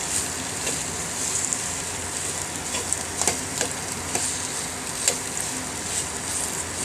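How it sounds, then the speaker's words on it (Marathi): Dates roasting in a little ghee in a pan, a soft steady sizzle with occasional light clicks and scrapes of stirring, fairly quiet and close with no talk. "याच भांड्यात थोडंसं अर्धा चमचा तूप टाकून, अर्धापेक्षा जास्त 200 ग्रॅम खजूर आहे, तो चांगला मऊ होईपर्यंत भाजून घेते"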